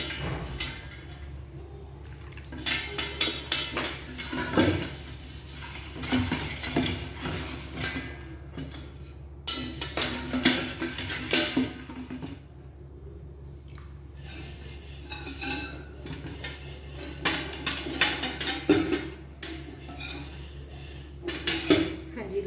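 Steel kitchen utensils clatter and clink during washing, with irregular bursts of metal knocking, scraping and dishes being handled, some running or dripping water, and a person talking.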